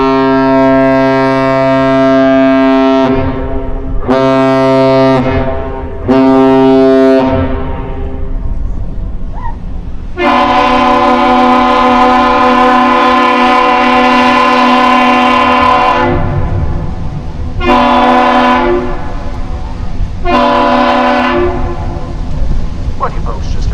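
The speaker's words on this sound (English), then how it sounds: "What you folks just heard there was a captain's salute or standard salute, greeting initiated by the Lee A Tregurtha and returned by the aerial lift bridge" Loud, long blasts from the Great Lakes freighter Lee A Tregurtha's ship horn exchange a captain's salute with the aerial lift bridge horn at Duluth, several sustained harmonic horn blasts with short gaps, powerful and close.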